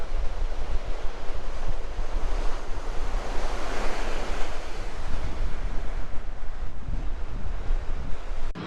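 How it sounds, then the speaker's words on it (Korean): Ocean waves break on Deoksan Beach on Korea's east coast, a loud, continuous roar of surf that swells and recedes, with steady wind noise over the microphone and no voices. "지금 이렇게 파도 치는 거 이렇게 멋있는 거 처음 보네요."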